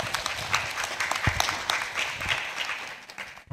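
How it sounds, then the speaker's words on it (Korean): Applause from a seated audience at a public-sector open government forum, a steady wash of many hands clapping that runs for a few seconds before tapering off near the end. "박수를 일단 한번 부탁드리겠습니다"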